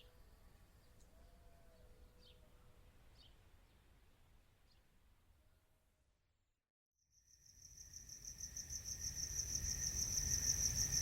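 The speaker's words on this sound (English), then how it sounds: "crickets gently making their music" Steady, high cricket chirping swells in after a near-silent pause, a dense pulsing trill over a soft night hum.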